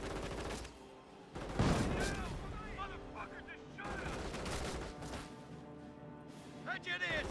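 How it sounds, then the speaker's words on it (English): Sustained gunfire in Company of Heroes, with rifle and machine-gun bursts crackling in rapid clusters amid battle noise, heard under an excited commentator talking over the action. "They're firing on us!"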